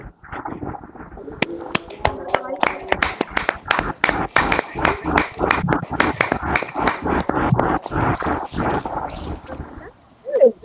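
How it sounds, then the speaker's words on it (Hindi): Audience applause for a pastor at a Christian intercession prayer meeting, a steady run of claps lasting several seconds with some talk around it, tapering off at the end. "और एक बार हम लोग ताली देके उनको"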